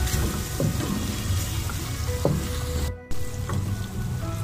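Vegetables and green chillies sizzle in a pan for spaghetti, a continuous close frying hiss with occasional stirring clatter and a brief cut in the sound near the end.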